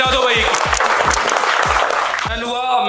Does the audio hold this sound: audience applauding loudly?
yes